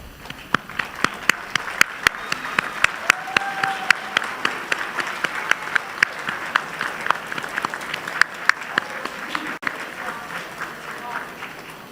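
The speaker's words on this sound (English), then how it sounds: "let's help you give them a huge round of applause." Graduation ceremony crowd claps at length, a continuous full applause with sharp individual claps standing out near the microphone, steady in intensity throughout.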